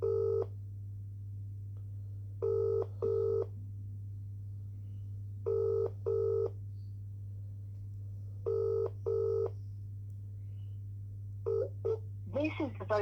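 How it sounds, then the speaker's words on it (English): A mobile number being dialled on a telephone keypad: clear DTMF tones in short pairs and groups with gaps between them, over a steady low hum, ending in a brief flurry of sound. "Ring up Christopher Browell."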